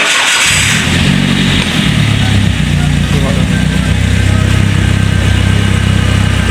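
A Toyota Avanza / Daihatsu Xenia at its 30,000 km service starts up, the engine catching and settling into a loud, steady running rumble close by.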